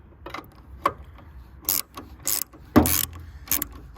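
Pliers working loose the terminal fasteners on a Honda Acty kei truck battery: a run of irregular close metallic clicks and ratcheting scrapes, with several sharper knocks standing out.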